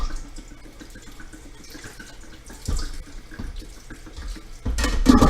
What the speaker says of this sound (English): Now I'm going to add more water to this.